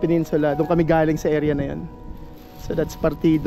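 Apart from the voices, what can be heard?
No everyday noises stand out.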